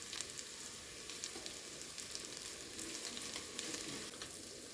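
Onions fry under a lid for mutton soup, giving a steady, soft sizzle that crackles evenly throughout without any talking.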